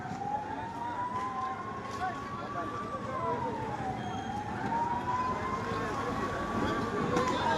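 A fire engine siren wails continuously on a road, its pitch rising and falling in slow sweeps over traffic rumble, fairly close and loud throughout.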